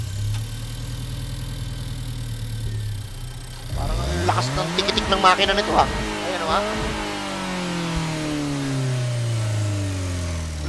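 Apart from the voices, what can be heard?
car engine in Gran Turismo Sport video game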